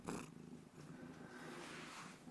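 Onions, a pet cat, purrs steadily in a soft, continuous low rumble heard very close and quiet, with a faint breathy rustle at the very start.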